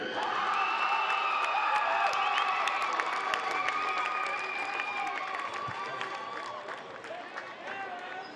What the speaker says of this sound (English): Let's hear a round of applause for your